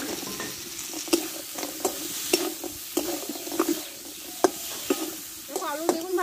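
Potato, eggplant and lentil dumplings being stir-fried in a pan, a steady sizzle broken by repeated sharp scrapes and clacks of a spatula at an uneven rhythm, close and clear with no talking.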